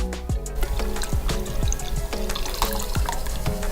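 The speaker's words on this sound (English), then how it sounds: "We rinsed everything thoroughly." Water running and splashing while lab glassware is rinsed after filtering an acid-boiled gold sludge, with steady tap flow and repeated clinking drips and knocks throughout.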